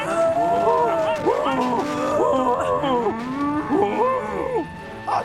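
Several cows moo repeatedly, loud and close, with long drawn-out calls overlapping one another through the whole stretch, with no talk over them.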